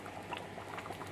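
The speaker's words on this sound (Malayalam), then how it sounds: "നന്നായിട്ട് വെട്ടി തിളക്കട്ടെ." Mutton stew for a Kerala-style curry boiling hard in a pot, a steady bubbling simmer with soft popping and gurgling throughout, fairly quiet and close, no voices.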